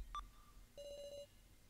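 A phone ringing in the video game Your Turn to Die, heard as a faint electronic chirp and then a short, rapid trilling ring, quiet and isolated with no one talking.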